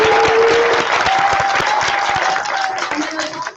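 Audience applause at a Democratic candidate forum for House District 67, held in a hall, dense steady clapping from a sizeable crowd with a faint tone running underneath, gradually thinning toward the end.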